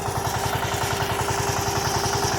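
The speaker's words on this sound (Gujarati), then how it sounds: "આપણું ટ્રેક્ટર લઈ આપણે પાછા ખેડવા માંડી જાય" A tractor engine runs steadily while ploughing a farm field, its low rhythmic thrum close and continuous with a clattering mechanical pulse throughout.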